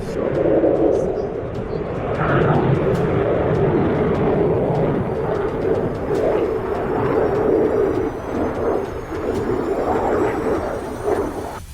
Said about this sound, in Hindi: दुश्मन के सामने गरजते फाइटर जेट